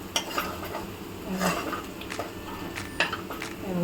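Masala roasting in oil in a pan for a Maharashtrian chana soyabean dish, with a spoon scraping and clinking against the metal pan over a low, steady sizzle.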